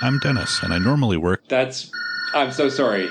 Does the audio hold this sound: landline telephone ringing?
yes